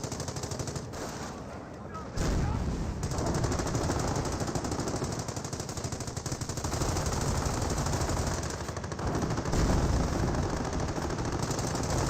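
Machine gun fire rattles through a battle in the video game Company of Heroes, forming a dense, unbroken wall of loud automatic shooting and combat noise that lasts about twelve seconds.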